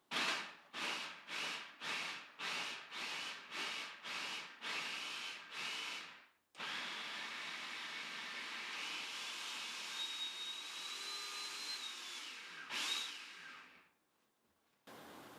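A food processor blends a seasoning blend in a string of about eight short, evenly spaced whirring pulses. One long continuous run follows, then a final brief burst, all fairly close with no talk.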